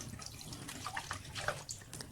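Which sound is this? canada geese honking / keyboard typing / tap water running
tap water running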